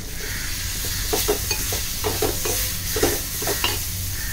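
Jackfruit seeds and clams are stirred in a pan, a steady hissing sizzle running beneath a quick run of close scraping and tapping strokes from the spoon.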